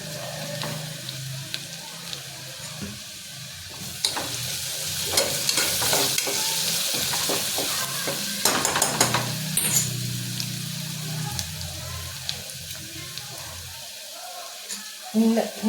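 Asafoetida hits hot oil in a pan, giving a bright, sustained sizzle that flares louder midway while a spoon scrapes and clatters in an uneven rhythm, then fades toward a quieter hiss near the end.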